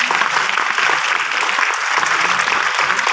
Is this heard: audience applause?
yes